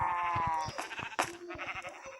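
Minecraft sheep bleat several times, one long wavering call at the start followed by shorter repeated bleats, close and clear, with a slightly synthetic game-like quality.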